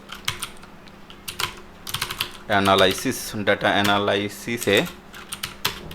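Rapid clicking keystrokes on a computer keyboard patter close by, with a voice talking over the middle of the typing.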